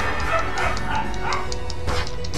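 Two female dogs squabbling, one pestering an older one, with repeated barks and yips at close range over a busy room background.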